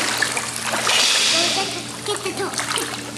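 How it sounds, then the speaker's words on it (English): A child's splash into a swimming pool during a swim lesson comes as a broad watery burst, with sloshing afterward and a voice and adult speech over it. "Jump in the water and swim back to a toy."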